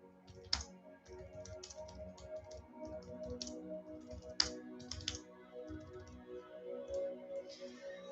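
Typing on a computer keyboard produces quiet, close clicks in irregular bursts, with a few sharper key strikes standing out and no talking over it.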